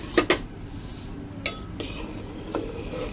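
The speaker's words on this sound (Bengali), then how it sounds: "কাজু বাদাম আর কিশমিশটা আমি দুধের মধ্যে দিয়ে দিচ্ছি। দিয়ে এবার ভালো করে নাড়িয়ে দেব।" A spoon stirs cashews and raisins into milk in a metal pot for payesh, giving a few sharp metallic clinks and scrapes against the pot, spaced irregularly over a quiet background.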